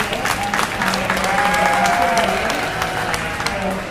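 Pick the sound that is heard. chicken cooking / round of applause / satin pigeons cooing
round of applause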